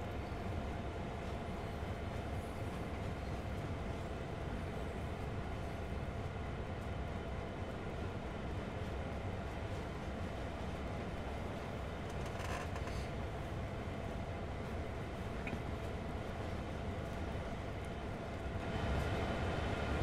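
A heavy train in Train Sim World 2 rolls on momentum with the power cut, a steady, loud rumble of wheels on track and a broadband rush that continues unbroken, with faint clanks near the end.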